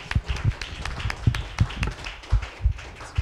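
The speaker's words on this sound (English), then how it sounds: "Give yourself a round of applause, everybody." An audience of people clapping, fairly sparse and uneven, with individual hand claps standing out as separate sharp taps, moderately near and not very loud.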